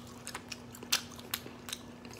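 Teeth bite into a crunchy meat stick, giving a few sharp snapping crunches followed by softer chewing, close and fairly quiet with no speech.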